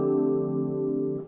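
Electric piano preset with chorus effect engaged: a sustained, slightly shimmering chord held for just over a second, then fading quickly, heard alone.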